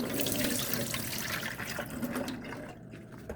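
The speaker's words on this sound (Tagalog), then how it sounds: "Hugasan po natin ang tubig, syempre, para malinis." Tap water runs steadily into a kitchen sink as sliced bitter gourd is rinsed, a close, continuous splashing flow with no talk.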